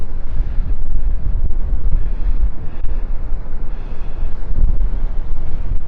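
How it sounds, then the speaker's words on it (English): Strong wind blowing on a beach at Delnor-Wiggins Pass State Park, a loud steady roar and buffeting rumble against the microphone, continuous throughout with no voices. "I'm facing right into that wind and it is blowing hard"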